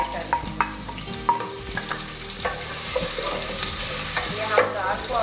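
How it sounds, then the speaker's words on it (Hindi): Small chopped onion frying in about five tablespoons of oil, a close steady sizzle with clinking stirring strokes from a utensil against the pan. "इसको हम फ्राई कर लेंगे।"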